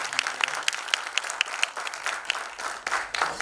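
An audience claps for the makers of a Punjabi film at a Mumbai event, a dense burst of applause with sharp individual claps standing out, close and lively throughout.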